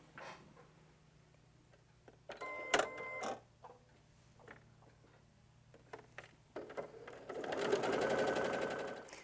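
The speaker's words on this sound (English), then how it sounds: "let's sew these" A sewing machine with a 1/4 inch foot stitching quilt pieces, starting with scattered clicks and handling noises, then a close, steady whirring stitch run near the end.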